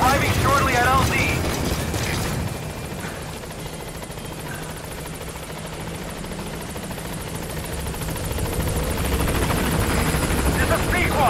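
A helicopter arriving at a landing zone in the Metal Gear Solid V video game, with a loud, continuous rotor thump and engine roar that dips slightly and then swells again, under bursts of radio-style talk.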